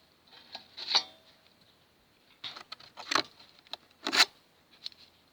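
Upper entrance of a wooden beehive being opened while the hive is prepared for winter, giving a few brief scraping, clattering knocks at close range, separated by quiet pauses.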